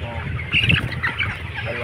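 Broiler chickens about 26 days old and around 2 kilos each cluck and chatter in a close, busy chorus at a poultry farm, with a brief louder squawk partway through.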